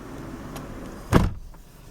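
A car door on a 2005 Kia Sorento shuts with a single solid thump near the end, preceded by faint rustling and a quiet idle hum.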